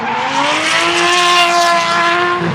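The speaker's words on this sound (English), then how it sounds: "So there's some noisy drift cars coming behind me." Loud, continuous engine roar from drift cars close by on a track, with rising tonal whine and tire squeal sustained throughout.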